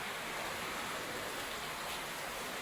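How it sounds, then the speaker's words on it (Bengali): Heavy monsoon rain falls over a flooding farm, a constant broadband hiss of water that stays level and fairly soft for a few seconds, with no voices. "এ কি বর্ষা, এ তো বাংলায় ডুবে যাবে।"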